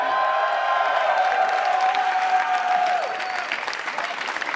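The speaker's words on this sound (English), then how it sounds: "A little applause here for EG" Enthusiastic applause from an esports tournament audience, a dense wash of clapping that holds steady and then begins to thin out toward the end.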